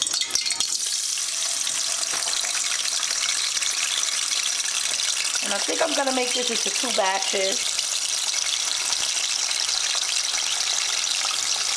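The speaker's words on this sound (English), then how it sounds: "I got my fries here, and I'm gonna put them in the oil." Homemade fries for Puerto Rican-style papas fritas frying in hot oil on medium-high heat, giving a steady broadband sizzle throughout with a brief spoken remark partway through.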